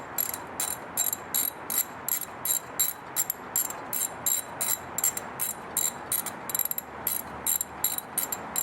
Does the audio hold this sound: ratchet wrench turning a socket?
yes